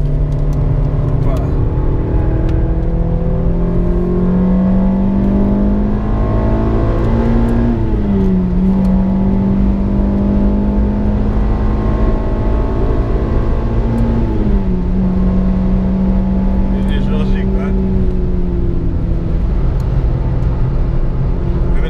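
Renault Clio III RS engine droning loud and steady on a Nordschleife lap, its harmonic pitch climbing and dropping with gear changes and continuous road rumble, with people talking throughout.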